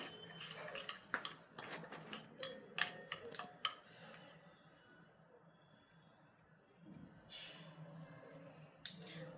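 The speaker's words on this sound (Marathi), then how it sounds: "तूप गरम आहे म्हणून मी चमच्याने मिक्स करून घेत आहे" A spoon stirs hot ghee into dry semolina in a bowl, giving soft scraping and clicking taps that come fast for the first few seconds, then settle into a faint, quieter rubbing.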